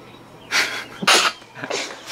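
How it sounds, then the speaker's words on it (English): A person sneezes loudly three times in quick succession over about two seconds, each burst sharp and close, with a brief breathy intake between them. "I'm about to sneeze, bro."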